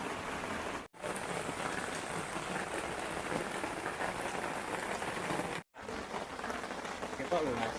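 Steady, dense rain pours down on a mountain hiking trail on Mount Ungaran, a loud continuous hiss with two brief dropouts, filling the whole span with no voices.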